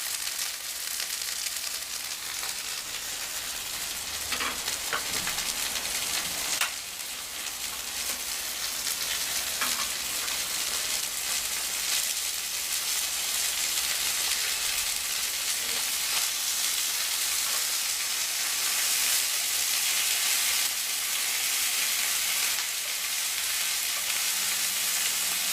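Kangaroo steak fries in olive oil in a pan with a loud, steady, crackling sizzle that runs unbroken for nearly half a minute, close up, with occasional small pops and no talking.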